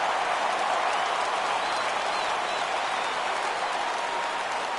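A baseball crowd at a Marlins–Rays game roars steadily as the count runs full, a dense, continuous wash of cheering and applause from a big stadium.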